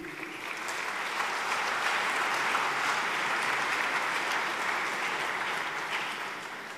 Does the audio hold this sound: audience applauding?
yes